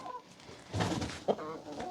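Chickens and a rooster on a farm being herded into a pen, with brief clucks and fowl calls close by, a short louder squawk in the middle, and faint background noise.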